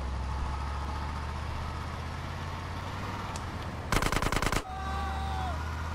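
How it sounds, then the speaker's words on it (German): A short, rapid automatic gunfire burst in GTA San Andreas, loud and close, lasting under a second over steady engine rumble and game ambience, followed by a faint whistling tone. "Deswegen kann ich da vorne schießen."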